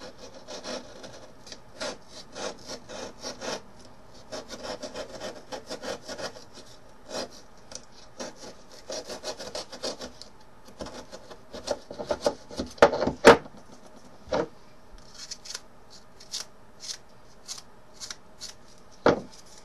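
Cutting and trimming parts for a scratch-built Warhound Titan model, giving a run of close, dry scraping and sawing strokes with sharper snaps near the middle, with no talking.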